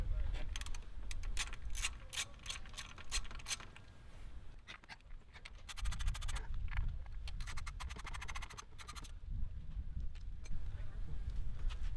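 Ratchet with a standard 10 mm socket removing coil packs from a Toyota Highlander during a spark plug job, with bursts of rapid clicking that stop and start over a low engine-bay rumble. Speech can be heard in the background.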